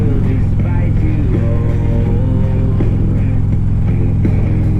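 A Harley-Davidson Road Glide with slip-on exhaust and a decatted stock header rolling at 30 mph on gravel, its engine giving a steady, loud low drone with wind and road rumble throughout.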